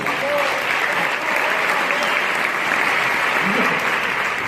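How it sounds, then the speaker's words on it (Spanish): A theater audience at a flamenco comedy show applauds a young woman, steady and loud, sustained throughout without pause. "Un aplauso para esta señorita."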